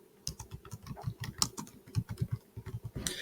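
A keyword is typed on a computer keyboard: a quick, uneven run of close, soft key clicks with short pauses between bursts.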